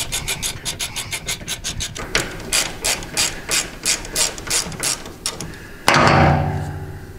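A hand ratchet works on bracket bolts during a vehicle part install, clicking in quick repeated strokes close up, then a louder scraping rush at the end.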